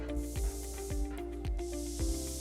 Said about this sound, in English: I can't run with my spray painter now apparently